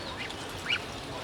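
A Chinese duck on a balcony farm of a building lets out a single short, faint quack midway through, over quiet background hiss.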